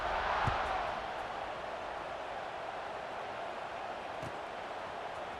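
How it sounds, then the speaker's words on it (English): A football stadium crowd at a Texas A&M game keeps up a broad, steady roar and buzz after a score, swelling slightly at the start and then holding an even, distant wash with no clear voices standing out. "this crowd is buzzing after that last score"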